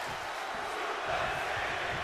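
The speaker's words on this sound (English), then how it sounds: "You hear the audience here in Vegas." A video-game wrestling crowd in T-Mobile Arena, Las Vegas, in WWE 2K23, a steady wash of roaring and cheering that swells slightly midway, heard on its own without talk.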